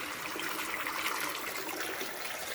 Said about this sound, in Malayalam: അപ്പോൾ ശുദ്ധമായ വെള്ളം വരും കുറച്ച് സമയം.